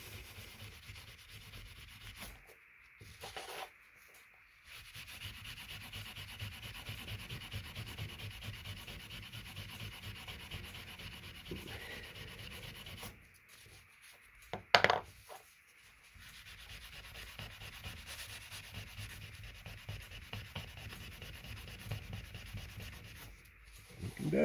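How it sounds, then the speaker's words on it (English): Steel wool, grade 4-0, rubbed briskly over a pewter keyfob to polish it, a steady close scratchy rubbing that runs in long stretches with brief pauses and one sharper knock midway. "4-0 steel wool, and we give it a rub."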